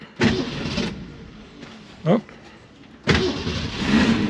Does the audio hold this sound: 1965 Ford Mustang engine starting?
yes